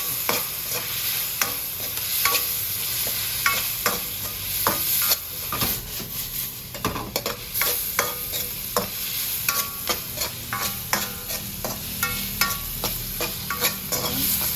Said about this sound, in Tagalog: haluin lang po ng maigi.